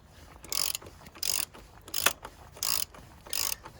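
An oil filter housing cap being cracked loose and unscrewed on a Mk6 Ford Fiesta 1.6 TDCi, a series of four or five sharp ratcheting clicks in short bursts, close and clear, with no voices.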